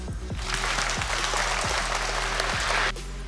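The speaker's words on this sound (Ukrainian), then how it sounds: "Йому оплески." An audience at a charity boxing evening breaks into applause, a full, steady roar of clapping that swells after a moment and cuts off abruptly near the end over a low hum.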